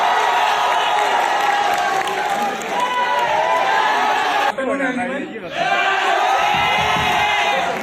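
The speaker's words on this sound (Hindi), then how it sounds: "जोरदार तालियों से स्वागत कीजिए" A live audience cheers and applauds at a Hindi poetry recital on the Mahabharata, a loud, dense crowd roar with shouts throughout, briefly dipping midway before swelling again.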